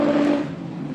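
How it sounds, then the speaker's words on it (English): Race car engine in a Nostalgia Sedans final at Carina Speedway, held near its rev limiter at the end of the straight: a loud, steady, high-pitched drone that fades slightly over one second. "It's right on that rev limiter right at the end of the straight."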